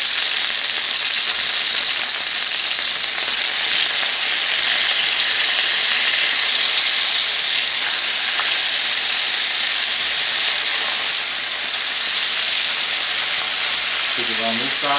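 Chicken pieces fry in a pan over medium heat, giving a loud, steady sizzle and hiss close by for the whole stretch, with a faint clink near the end.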